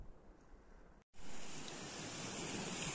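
Baltic Sea waves washing onto a beach on a calm morning: a soft, steady hiss of surf, briefly cut out, then returning slightly louder and continuous, with no talk.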